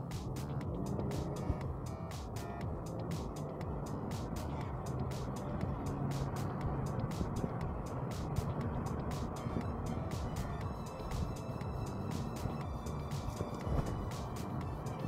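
Kia Stinger GT driving, with a steady, dense roar of engine and road noise that holds without a break throughout.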